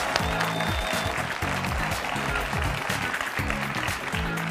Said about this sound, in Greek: να έρθει στην παρέα μας με ένα χειροκρότημα